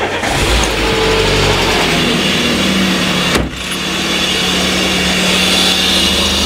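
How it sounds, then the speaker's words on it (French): A Peugeot 207 engine is started and left to warm up toward thermostat opening during a radiator replacement. It runs as a steady, close engine hum that cuts out briefly midway, then settles back into a constant idle. "Allez, je la démarre et je mène le moteur à température jusqu'à ce que le thermostat s'ouvre."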